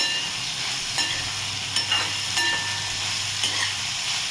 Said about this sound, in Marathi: ही छान अशी आपल्याला मीडियम गॅसवरती परतून घ्यायची आहे.